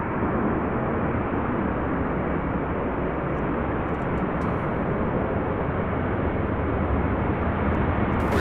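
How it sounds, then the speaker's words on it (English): Heavy UPS MD-11 freighter passing, a steady broadband jet roar that stays loud and constant throughout, with no voices. "I believe that is the last MD-11 of the day"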